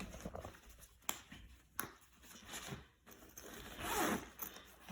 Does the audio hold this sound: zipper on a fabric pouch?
yes